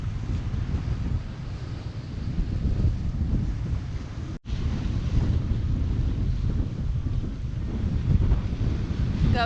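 Gusty wind roars across a microphone aboard a Hallberg-Rassy 54 sailboat under reefed main off the Connecticut coast near Stonington, a loud continuous rush with a momentary dropout midway, water and hull noise beneath.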